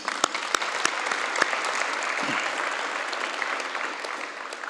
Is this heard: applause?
yes